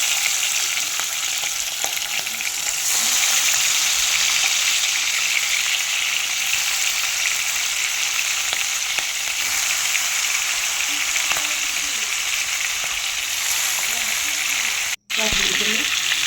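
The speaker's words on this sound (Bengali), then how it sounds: "এবার আমি আস্তে আস্তে করে নুন হলুদ মাখানো চিংড়ি মাছগুলো একে একে ছেড়ে দিচ্ছি এর মধ্যে" Turmeric- and salt-coated prawns drop one by one into hot mustard oil and fry, giving a continuous strong sizzle with faint stirring, broken by a brief gap near the end.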